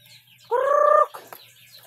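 A single loud, drawn-out call from a backyard hen or rooster rings out close by, brief and alone, over faint background noise.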